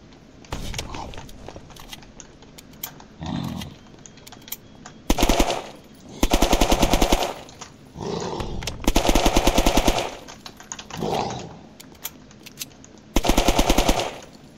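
Bursts of automatic gunfire from the video game Unturned, fought against a mega zombie, come in several loud rapid volleys separated by short gaps, with someone talking between them.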